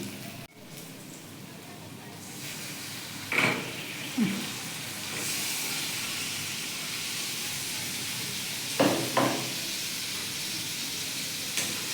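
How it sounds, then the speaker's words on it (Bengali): Chicken frying in a pot over sautéed spices, giving a steady, fairly quiet sizzling hiss with a few short stirring scrapes, and no talk. "মশলা কষানো হয়ে গেছে আমি দিয়ে দেবো এবার চিকেন"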